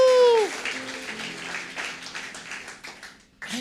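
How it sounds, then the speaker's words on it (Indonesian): Indonesian church congregation at a Sunday service breaks into sustained clapping and cheering after a brief voice at the start. The dense applause carries on steadily, then dips before a voice returns. "sekarang mau gak kita bersorak-sorak dan tepuk tangan buat Tuhan dengan segenap hati?"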